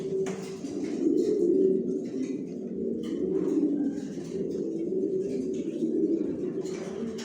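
Pigeons in a loft coo steadily in low, rolling, overlapping calls, close and continuous, with a few faint chirps and rustles above them.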